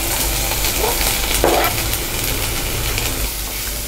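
Green chillies and onions fry in hot oil with a loud, dense, continuous close-up sizzle and occasional stirring.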